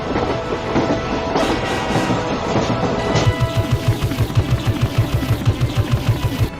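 Cartoon burning train running along the tracks, a continuous rumbling roar that turns into a fast, rhythmic clickety-clack of wheels, loud and close with a crash-like burst midway.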